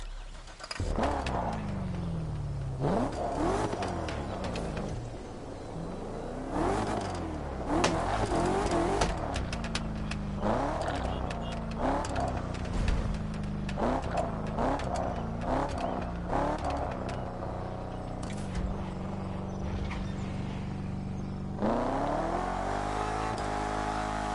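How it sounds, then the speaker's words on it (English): A supercharged car revs in The Crew Motorfest racing game. The loud engine roars and climbs through repeated gear shifts and throttle bursts, with occasional tire squeal, and it keeps going for the whole stretch. "you can barely hear the supercharger"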